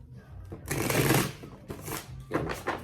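Tarot cards being shuffled close up, a couple of quick papery riffling bursts with softer handling noises between them.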